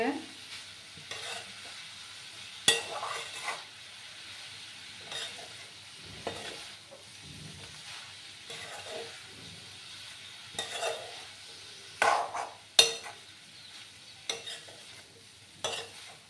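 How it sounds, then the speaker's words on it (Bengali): A raw papaya mixture is stirred in a pan: a low, soft sizzle runs throughout, with irregular spoon scrapes and knocks against the pan rising here and there. "ভালো করে আমি মিক্স করে নেব"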